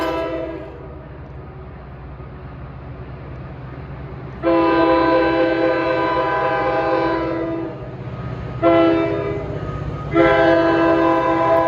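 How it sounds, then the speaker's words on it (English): NJ Transit PL42 AC diesel locomotive sounding its horn on the Main Bergen Port Jervis line, a loud sustained chord blast followed by two shorter blasts, with train rumble underneath. "PL42 AC horn."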